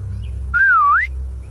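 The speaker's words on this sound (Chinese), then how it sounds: "18岁少女一念，恰好从旁边路过，听见这话，他轻笑着冲那帮巨婴吹了声口哨" A woman whistles once, a single clear sliding note lasting about half a second that dips and rises, over a low steady background hum.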